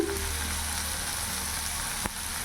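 Spices frying for a duck egg curry, a dense continuous sizzle close up with one brief scrape or knock of the spoon near the end, no voices.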